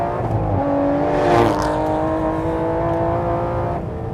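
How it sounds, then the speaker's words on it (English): An Aston Martin GT12's 600-horsepower V12 revs hard and loud close by, its pitch climbing through a sustained high-rpm howl before easing off at the end, with no voices over it. "then there's the 600 horsepower V12"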